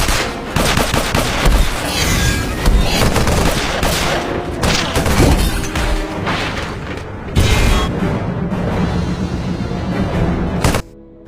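Loud, sustained gunfire from a war film scene, with dense bursts of shots and booming impacts as enemies fire at the heroes, continuous and close before cutting off abruptly at the end.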